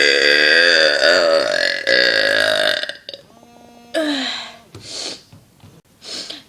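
A person lets out a series of loud, close burps: a long drawn-out belch for about three seconds, then several shorter croaky burps and breathy bursts with pauses between.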